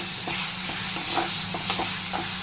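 Fresh ground tomato paste sautés in a pan for a drumstick mutton curry, with a constant bright sizzle and the soft scraping of a spoon stirring in irregular strokes, close up.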